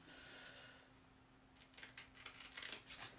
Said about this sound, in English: I should probably cut them while I have the scissors though